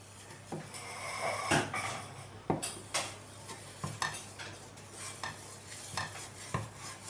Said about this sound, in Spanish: Lo movemos para que no se hagan grumos.